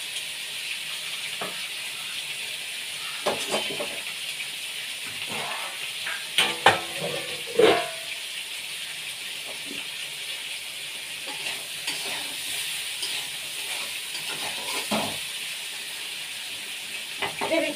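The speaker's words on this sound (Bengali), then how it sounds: "এই আলুটা একটুখানি তেলে ভেজে নেব" Boiled potatoes fry in a little oil with a steady sizzle and hiss, broken by occasional stirring scrapes and small pops close by.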